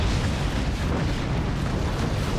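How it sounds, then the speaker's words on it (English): A heavy cannon booms in the physics fort-building strategy game Forts, delivering a dense, sustained rumbling blast that fills the whole stretch at steady loudness with no talk over it. "Okay, he's firing the cannon."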